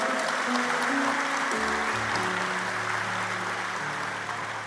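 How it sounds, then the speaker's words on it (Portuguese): A church congregation applauds during a sermon, steady massed clapping beneath sustained organ or keyboard chords, fairly loud and continuous. "Aplauda o Senhor Jesus."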